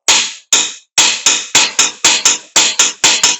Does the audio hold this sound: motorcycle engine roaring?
no